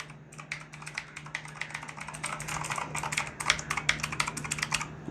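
Rapid, continuous clacking of a Redragon Kumara K552 mechanical keyboard being typed on up close, keys striking in quick irregular bursts with no talking.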